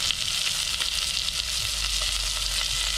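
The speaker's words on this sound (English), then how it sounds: "while that fish is searing up" A fish fillet sears in a hot pan with a steady, loud, even sizzle that runs throughout, with no voices over it.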